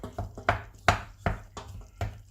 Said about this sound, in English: Let's just smash them down to here and then whisk them up.